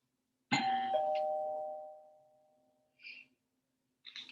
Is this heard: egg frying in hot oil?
no